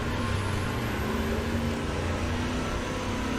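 Engine of the Weasel vehicle in the video game War Thunder, a continuous steady motor drone with a faint rising whine, even and sustained throughout, heard alone.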